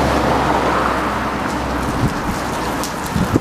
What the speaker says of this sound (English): Sorry about the noise of the cars.